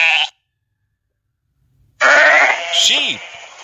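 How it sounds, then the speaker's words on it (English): A single sheep bleats loudly and close by in a long, wavering cry after a short silence, following a brief clipped sound at the start. "Sheep."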